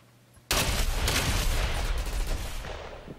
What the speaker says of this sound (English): Buddy, you're shooting the floor.